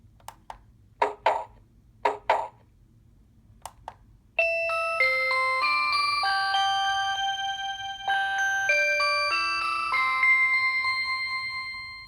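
A long range wireless doorbell kit previews its chime tones, starting with a few short, sharp clicks and then a clear, close melodic sequence of bright electronic notes that ring on with no voices.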